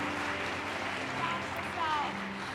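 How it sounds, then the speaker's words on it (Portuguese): A church congregation applauds with a steady, dense wash of clapping during an evening service, continuing at an even level for the whole stretch while faint voices mix underneath. "Mais uma vez vamos aplaudi-la."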